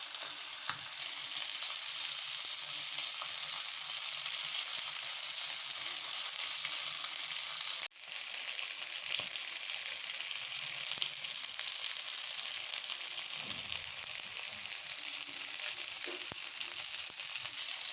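Fish frying in a pan gives a steady, dense sizzle and crackle that carries on throughout at moderate loudness, close by, with a brief dip partway through and no talking.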